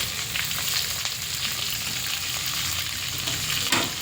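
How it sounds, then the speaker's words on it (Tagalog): Pork belly (liempo) fries with garlic and onion in a hot pan, giving a loud, continuous close sizzle with faint stirring scrapes and a small clatter near the end, no talking. "Ilagay na natin ang ating pork mga idol. liempo, pork belly mga idol, mga kapobre."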